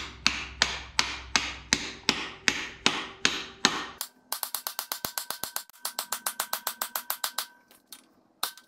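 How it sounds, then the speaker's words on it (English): A hammer taps brake parts into place on a 1967 Tempest wagon chassis: a run of sharp, evenly spaced metallic strikes, then a faster, lighter series of taps, close and loud with no talk. "But I just grabbed a hammer."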